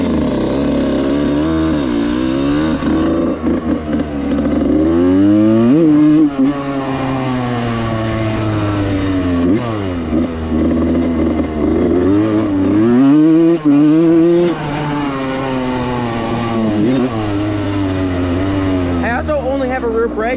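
A 1995 Suzuki RM125 two-stroke dirt bike ridden at speed, its engine note rising and falling through repeated throttle swells and gear changes, loud and close throughout, with a voice talking over it at times.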